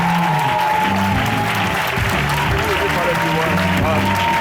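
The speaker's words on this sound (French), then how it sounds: "Acclame Jésus, acclame Jésus." A church congregation claps and acclaims Jesus during a testimony service, dense continuous applause with music and voices underneath, loud and close throughout.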